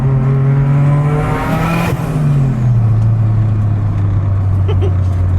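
Toyota Caldina GT-T wagon launching hard from a standstill with all four wheels spinning, a loud, close engine roar that climbs then drops into a sustained droning rev, with excited voices briefly underneath.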